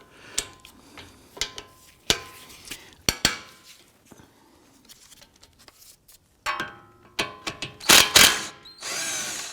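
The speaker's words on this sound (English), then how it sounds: "Using our 17mm socket and breaker bar, we're going to loosen our caliper bolts" Front brake caliper bracket bolts on a 2004-2008 Acura TL being loosened with a 17mm socket and breaker bar: sharp, close metallic clicks and clanks in irregular bursts, with a harsher run of ratcheting and rattling near the end.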